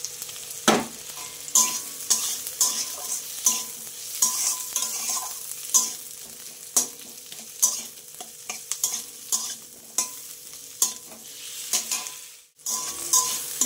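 Eggs coated in salt and turmeric fry in a wok, a steady close sizzle punctuated by frequent rhythmic spatula scrapes and stirring knocks, with no talk.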